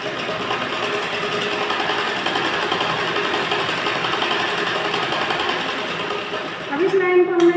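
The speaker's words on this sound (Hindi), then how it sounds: "हम इस तरह से सिलते जाएंगे" A sewing machine stitching a blouse, a continuous close mechanical whir running steadily for several seconds and then briefly changing pitch near the end.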